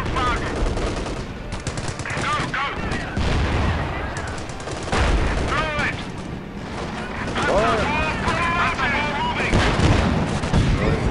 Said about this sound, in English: Panzer 4 firing on enemy.